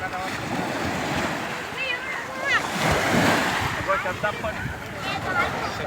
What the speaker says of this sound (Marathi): तुम्ही येथे बघू शकता वेंगुर्ला बीच